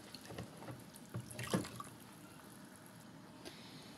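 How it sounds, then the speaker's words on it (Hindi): Soaked rice tips into beef stock in a pot for Hyderabadi beef yakhni pulao, a soft splash and watery trickle with a few drips, quiet and close, fading into faint liquid noise. "अब हम इसके अंदर स्टॉक के अंदर ऐड कर रहे हैं।"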